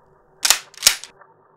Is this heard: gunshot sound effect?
yes